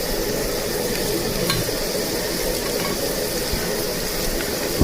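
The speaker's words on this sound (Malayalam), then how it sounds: "പച്ചമുളകും അതുപോലെ തന്നെ കുറച്ച് കരിവേപ്പിലയും ചേർത്ത് കൊടുക്കുന്നുണ്ട്." Green chillies and curry leaves sizzle and crackle in hot oil in a frying pan while Kerala-style egg kurma is cooked, a steady close hiss with faint stirring scrapes.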